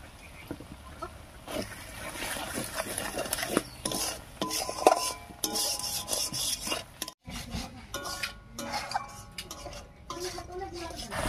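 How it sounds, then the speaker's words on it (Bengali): Jackfruit curry spices are stirred in a pan with a spoon, giving irregular scraping, rubbing and clinking strokes against the metal, close and fairly quiet, with brief pauses between bursts. "এবারে ঢাকা খুলে একটু নাড়িয়ে নেব"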